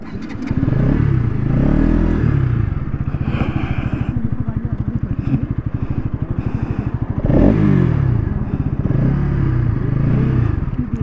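Bajaj Pulsar NS200 motorcycle accelerating hard in a drag race, a loud, close engine note that revs up, drops briefly at gear changes and climbs again throughout.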